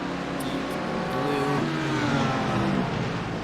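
A GT racing car engine in iRacing at Barber circuit, revving loudly and shifting through gears as it climbs and drops in pitch, steady and close with no voices.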